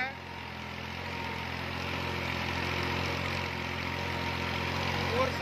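A New Holland 4x4 tractor engine runs steadily in high gear with a continuous low mechanical drone and a broad hiss of wind and motion, holding an even level throughout without pauses.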